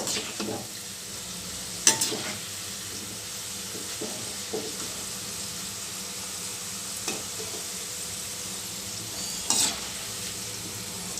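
Crushed garlic, skins on, and plenty of curry leaves roasting in a pan, a soft steady sizzle with occasional faint clinks of a stirring spoon, no talking.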